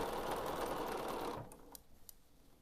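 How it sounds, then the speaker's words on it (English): A sewing machine runs steadily while stitching a quarter-inch seam on a doll panel, its close, continuous hum stopping after about a second and a half, leaving a few faint clicks. "I'm just gonna do a quarter inch seam, removing my pins as I sew."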